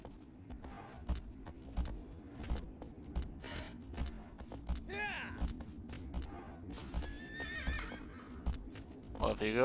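A horse in Shadow of the Colossus on PS2 whinnies several times over steady clip-clopping hooves, with a player talking over the game sounds.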